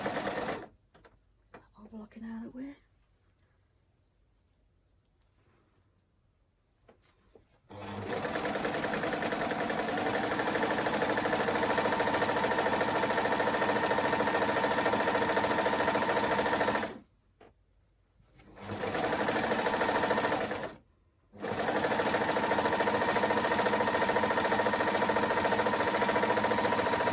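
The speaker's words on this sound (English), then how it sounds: "I'm just going to overlock the bottom, so the bottom hem, I'm just going to overlock that" An overlocker sewing machine stitches along a fabric hem in long, loud, fast-running bursts, stopping briefly between runs, with quieter handling noises at the start.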